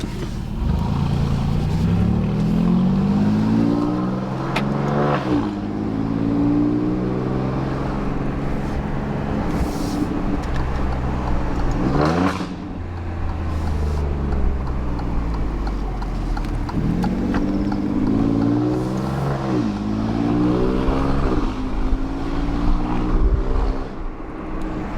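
A modified Alfa Romeo Giulia Quadrifoglio with aftermarket downpipes drones loudly from inside the cabin, engine note rising through the revs and dropping with each gear change, several shifts over a steady cruising roar.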